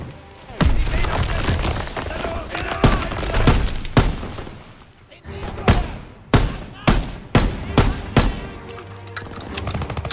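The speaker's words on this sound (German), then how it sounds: "Schüsse! Unsere Jungs müssen in der Nähe sein." Gunfire in the World War II shooter Call of Duty WWII: sharp, loud shots crack out in an irregular burst, then a rapid volley of distinct reports over a dense battle din, with no talk.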